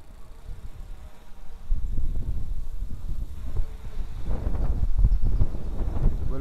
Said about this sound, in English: That wind kicked up quite a bit.